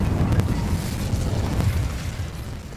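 Fire spell Incendio cast in Hogwarts Legacy, a dense, loud roaring burst of flame that holds steady throughout, with a couple of faint crackling pops inside it.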